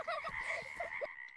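Frogs croak in a folktale narration, a dense run of repeated throaty calls layered over a steady high trill, close and fairly loud, without speech, ending with the trill fading alone.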